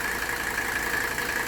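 1984 Mercedes-Benz 300SD diesel engine idling steadily up close, a continuous even rumble with a faint high whine running through it and no talking.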